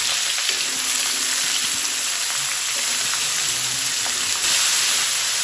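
Carrots fry in a pan over a medium gas flame for pickle, giving a steady, dense sizzle with light stirring scrapes throughout, close and fairly loud, no voices.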